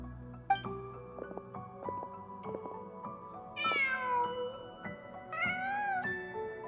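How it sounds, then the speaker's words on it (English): A cat in the video game Genshin Impact, set in Nod-Krai, lets out two drawn-out, clear meows a couple of seconds apart over soft background music, close and fairly loud, with no talking. "Just a cat."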